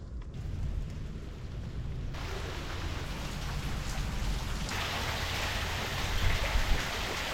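Steady rain pours down outdoors during a fishing trip, a dense continuous hiss that swells louder toward the end, with no voices.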